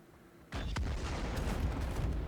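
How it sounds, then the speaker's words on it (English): A secondary explosion destroys ships in Star Citizen, a sudden loud boom after a quiet start, followed by a sharp second crack and a dense rumbling roar that carries on to the end. "now we have a secondary explosion and now everything is destroyed"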